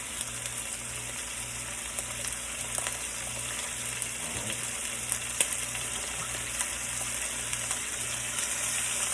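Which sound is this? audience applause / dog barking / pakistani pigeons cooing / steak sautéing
steak sautéing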